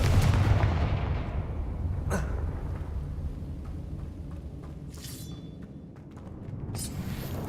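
A Confringo explosive spell blasts in Hogwarts Legacy, heard as a low rumbling boom that opens the clip, followed by sharp cracking bursts and glassy clinks over a dull, sustained game backdrop.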